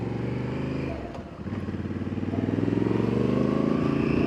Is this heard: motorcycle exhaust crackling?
yes